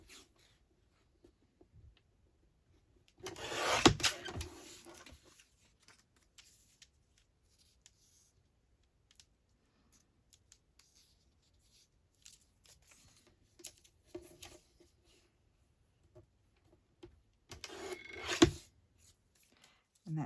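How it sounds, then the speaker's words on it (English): A paper journal card is cut in two short, crisp bursts of cutting well apart, with faint paper handling in between in a quiet space. "And I'm going to cut that off"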